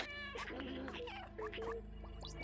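A person imitates a cat's meow with several drawn-out, wavering meows voiced close to the microphone, over a faint background hum.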